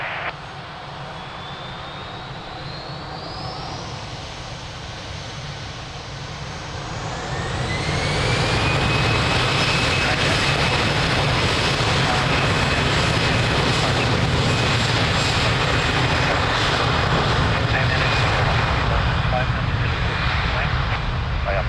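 An Air France jet takes off from runway 02 at Lisbon Airport, its engine roar building from a distant whine into a loud, sustained rumble with a rising tone.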